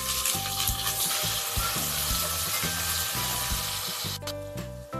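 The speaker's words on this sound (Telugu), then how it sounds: "ఇప్పుడు ఈ స్పైసెస్ని బాగా వేయించుకున్న తర్వాత దీంట్లోకి నేను ఆనియన్స్ని అయితే యాడ్ చేసుకుంటున్నానండి" Onions go into oil with already-fried spices for a Kashmiri chicken curry, giving a loud, dense sizzle with regular stirring strokes, then a brief drop in the hiss near the end; no talking.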